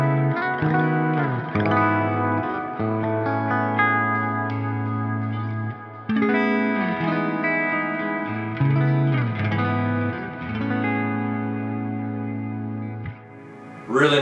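An electric guitar plays clean through a PRS Archon 50 MKII amp, with added reverb and delay. Sustained chords and melodic notes ring out with shimmering echo tails, and no one talks.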